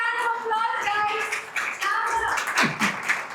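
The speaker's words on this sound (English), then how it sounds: "Big round of applause, guys!" Audience applause and cheering welcome a speaker onto the stage at a live dog behaviour masterclass, a dense, steady wash of clapping with voices mixed in throughout.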